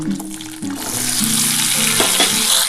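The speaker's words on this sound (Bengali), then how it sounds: "এই তেলের মধ্যে এবার আমি কিন্তু আলুগুলো দিয়ে দিচ্ছি" Potatoes go into hot oil left over from frying prawns and sizzle loudly and steadily, with a brief clatter and background hum as the frying hiss builds and holds.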